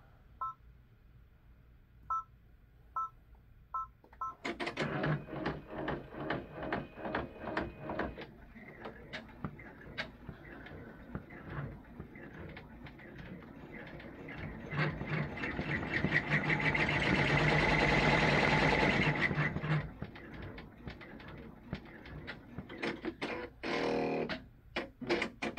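An embroidery machine sews a placement stitch on felt for a candy cane ornament. It makes a steady, fast mechanical stitching chatter that starts after a few soft beeps, swells louder midway, then keeps ticking quietly.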